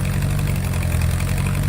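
A 1957 Ford 861 tractor engine runs steadily while trenching, a loud close continuous low rumble and throb with no breaks or voices.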